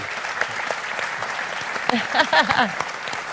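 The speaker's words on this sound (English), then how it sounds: "Can we have a round of applause for Lisa and Matthew?" Audience applause for two speakers at a faith forum on healthy relationships, a steady crowd clapping with someone speaking briefly over it partway through.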